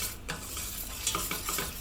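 Butter and flour roux frothing in a pan over low heat, giving a soft, steady bubbling sizzle with a few faint stirring scrapes, close and alone.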